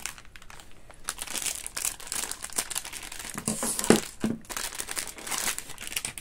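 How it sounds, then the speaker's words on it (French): Plastic packaging being handled and cut open with scissors: irregular crinkling and crackling of film with a few sharper snips and crunches, close and fairly loud, no voices. "Je vais prendre des ciseaux."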